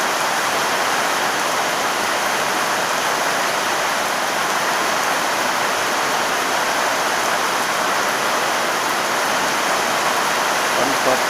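Heavy morning storm rain pours steadily in a dense, unbroken hiss, loud and even throughout with no pauses.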